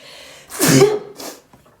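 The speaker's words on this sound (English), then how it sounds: "I think I have to sneeze." One loud, close sneeze bursts out, followed by a softer second gasp or sneeze-like exhale, then quiet.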